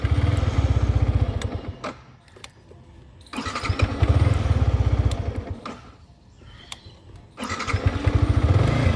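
A Yamaha R15S V3 motorcycle with a possible battery problem is self-started three times, each attempt a loud burst of cranking and engine revving that drops back to a quieter lull between tries.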